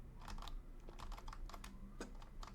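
Uneven keystrokes rattle on a computer keyboard with a lagging connection, quiet and close, in short irregular bursts with brief pauses and no voices.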